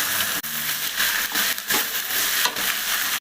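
Egg paratha frying in a pan, a continuous dense sizzle close up with brief dips and scraping stir noises throughout.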